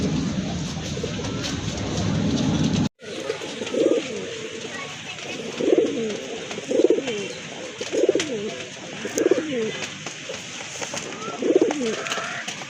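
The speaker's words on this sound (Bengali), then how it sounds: "আরেক জোড়া কবুতর, একদম ধবধবা সাদা কবুতর" Pure white pigeons in a collection for sale coo in a regular series of soft, throaty phrases, close by, following a few seconds of louder background at the start.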